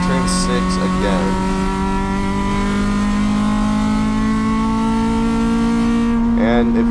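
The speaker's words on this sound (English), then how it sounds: "Fourth gear through there, you can hear that there's no VTEC changeover anywhere." Acura RSX-S race car engine held in fourth gear on the Thunderhill Raceway track, a loud steady whine that rises smoothly, with someone talking over it near the start and end.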